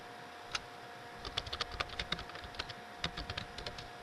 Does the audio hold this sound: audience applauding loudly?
no